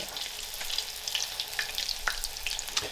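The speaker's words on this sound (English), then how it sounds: "To fry in this much grapeseed oil would be a lot." Latkes frying in a generous pool of grapeseed oil, giving a steady crackling sizzle with scattered sharper pops throughout, close and alone with no talking.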